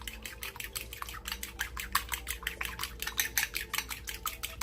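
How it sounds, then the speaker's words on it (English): Eggs being beaten with a fork in a bowl for potato and egg breakfast tacos, a steady run of quick, close metallic clicks and taps against the bowl with no talk. "We're going to go ahead and beat these with a fork until they are well combined."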